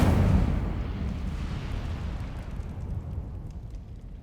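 Incendio fire spell cast in Hogwarts Legacy: a loud, close whooshing burst of flame that roars at the start and then trails off into a long, rumbling fade.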